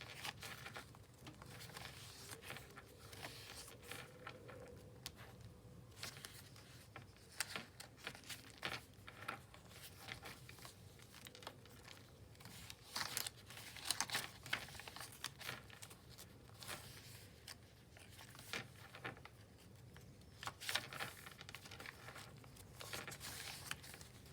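Coffee-dyed paper pages of a small handmade neutral-toned junk journal being handled and turned, giving soft, quiet crinkles, rustles and light pats scattered throughout, close by with no talking.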